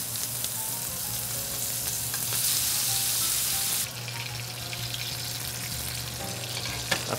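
Butter, shallots and garlic frying in a pan for a sous-vide ribeye, a steady close sizzle that swells louder and hissier for a stretch midway before settling back to a constant crackle, with no talking.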